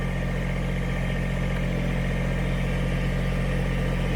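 A BX engine runs steadily at idle, a continuous low mechanical hum with a strong even throb that holds constant and close for the whole stretch, no voices over it.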